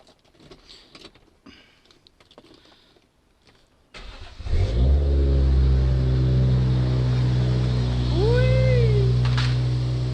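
A Toyota Soarer SC300 drift car engine cranks and catches after a quiet stretch, then settles into a loud, steady idle with a brief rising rev near the end.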